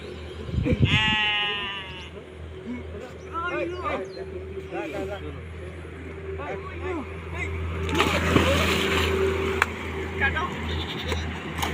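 A goat bleats loudly a few times close by, wavering cries amid people talking and a passing vehicle in the background at an Eid sacrificial goat market.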